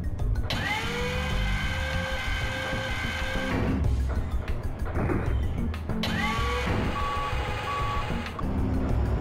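A forklift in the video game Shenmue backs up. Its engine drones loudly and steadily while two bursts of repeated high, even reversing beeps sound over it.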